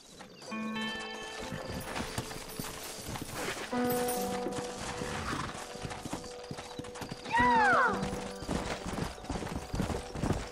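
Horse hooves clip-clop steadily in the Red Dead Redemption video game, with a horse neighing partway through amid game ambience and a speaking voice.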